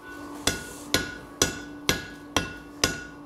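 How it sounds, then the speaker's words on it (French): Hand hammer blows on metal smooth out the marks left by a power hammer in a metalworking shop. Six crisp, ringing strikes land at a steady pace about half a second apart, clear and close, with no voices. "j'efface les coups de marteau laissés par le marteau pilon"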